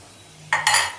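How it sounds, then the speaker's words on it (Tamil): A lid goes onto a pan of frying dried anchovies, with two quick metallic clanks close by after a quiet moment. "இப்போ நம்ம இதை மூடி வச்சுக்கலாம்."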